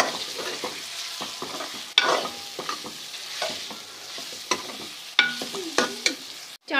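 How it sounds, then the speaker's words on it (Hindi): Mutton for Kashmiri yakhni gosht fries in a pot with ground spices and turmeric, giving a loud close sizzle broken by repeated scraping stirs and clanks of the spoon against the pot, with no voices. "इसको तकरीबन 3 से 4 मिनट दोबारा से भून लेते हैं"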